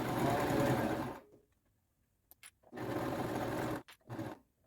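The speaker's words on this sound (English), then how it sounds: "I'm going to back stitch this corner a couple, okay, and then turn it" Sewing machine back stitching the corner of a fabric face cover and neck shield, running in short bursts: a long close run, a pause with faint clicks, then two more runs.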